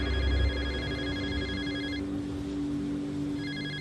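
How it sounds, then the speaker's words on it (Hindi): A phone rings with a repeating electronic ringtone, bursts of tones pausing briefly before resuming over a steady low background hum; no one speaks. "उसी समय समीर का फोन बज पड़ा।"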